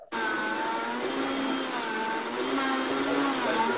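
A blender whirs steadily while making a tropical smoothie bowl, starting abruptly and holding a loud, constant motor roar close by for several seconds, with no talk over it.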